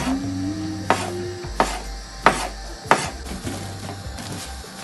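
Several sharp knife strokes cut dough on a board at irregular intervals, close and crisp, with a soft rubbing between cuts.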